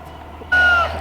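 A baby guinea fowl gives a single short, high, thin peep up close, clear above a steady low background hum.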